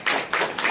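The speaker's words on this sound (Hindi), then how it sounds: "आइए प्रभु के जोरदार ताली बजाए।" A church congregation claps loudly for the Lord, three quick broad bursts of hand claps close together in a short spirited rhythm.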